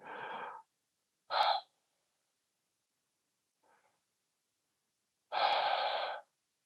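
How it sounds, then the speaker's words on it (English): Deep breaths in and out through the mouth during a breathwork session: three strong, close breaths separated by silences, with one faint short breath between them, no speech. "starting to take full deep breaths in and out through the mouth"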